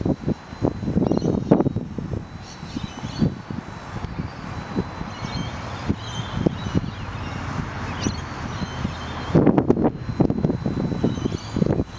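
Wind buffets the microphone in an open park, with gusty rumbling and rustling that rises and falls throughout, plus brief louder bursts near the end; no voices are heard.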